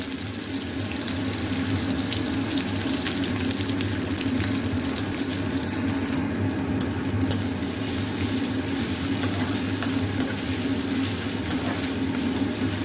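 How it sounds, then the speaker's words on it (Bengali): Steady hiss and crackle of onions frying in hot oil in a kadai, continuous and fairly loud throughout, with a low hum underneath. "আমি তেল দিয়ে দিয়েছি কড়াইতে। এখন আমি পেঁয়াজগুলো দিয়ে দেবো।"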